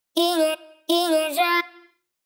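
Two sustained sung vocal chops processed with a phaser effect in Groove Agent SE, with a sweeping, swirling tone, the second longer and ending with a brief tail.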